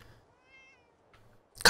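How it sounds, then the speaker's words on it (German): A single faint, short cat meow in Fallout 4 rises and falls in a quiet scene, followed by a soft thump and a sudden loud noise burst at the end. "Katze!"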